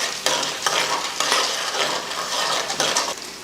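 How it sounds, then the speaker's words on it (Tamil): Mustard seeds, urad dal and chana dal fry in hot oil with a loud close crackle and hiss, punctuated by repeated metallic stirring scrapes against the pan; no voices. "எண்ணெய் காஞ்சதுமே கொஞ்சம் கடுகு உளுந்து, ஒரு 3 ஸ்பூன் அளவுக்கு கடலைப்பருப்பு."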